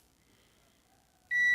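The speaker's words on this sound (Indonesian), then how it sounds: "tadi sudah dengan menggunakan mode ini yang berbunyi buzzer ini" A multimeter in continuity mode buzzing while testing a bridge diode in an LED lamp, one sharp steady beep starting abruptly after near silence and holding to the end.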